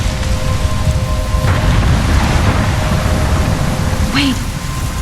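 Steady heavy rain with a low thunder rumble in a stormy scene from the video game Life Is Strange, loud and continuous with a few brief higher tones layered over it.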